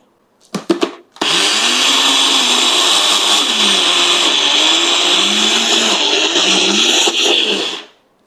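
Blender grinding peanuts into homemade peanut butter, a steady loud motor whir with a rough, churning texture that runs for about seven seconds after a few short pulses, then stops.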